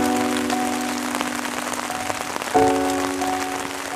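Steady rain falls on outdoor surfaces in a rural wine-growing setting, a dense continuous patter with soft music tones held underneath, no voices.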